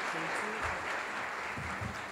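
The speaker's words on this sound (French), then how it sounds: "On les applaudit chaudement, s'il vous plaît." An audience at a French-language panel on responsible tourism applauds warmly, a short burst of continuous, fairly loud clapping with some low rumbles underneath.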